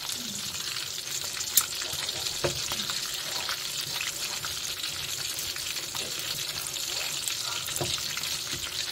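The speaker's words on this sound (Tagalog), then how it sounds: "Ayan, nagpipirito na ako" Dynamite lumpia frying in oil over medium heat, a steady continuous sizzle and crackle with occasional sharper pops and faint clinks, close and fairly even throughout.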